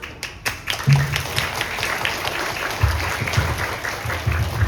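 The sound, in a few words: applause for ceremony officers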